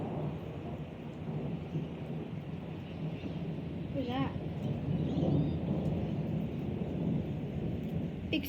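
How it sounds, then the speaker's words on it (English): Deep thunder rumbles loud and sustained through a big storm, with lightning striking nearby; the rumbling swells midway as a voice speaks briefly over it. "That was just a big, huge, like, thunder thing."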